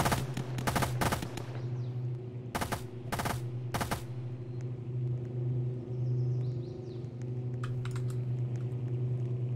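Gunfire in the Roblox game Winnipeg Police Service Patrol: several loud bursts of rapid shots in the first four seconds, then sparse fainter pops, over a steady low engine-like hum.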